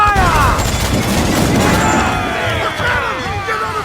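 Naval cannon fire in Assassin's Creed 4 Black Flag: dense, continuous battle noise of booming shots and crashing impacts layered with whistling projectiles, loud and sustained, with shouted voices mixed in.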